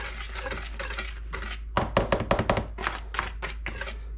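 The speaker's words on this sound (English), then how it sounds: "I usually don't sift it, I just kind of whisk it" Flour being whisked in a bowl, a quick run of tapping, knocking strokes against the bowl over a steady low hum, the beats closer together in the middle of the stretch.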